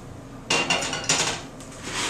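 A spoon works through a sticky mixture of Rice Krispies and corn flakes in a bowl, producing crisp crunching and rustling bursts with clinks of the utensil, close and alone.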